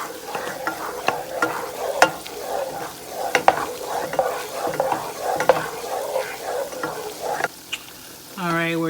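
Butter sizzles in a pan as its milk solids cook off, a bubbling, popping fry with frequent sharp spatters and light stirring, close and steady, before it quiets and a voice briefly begins at the end.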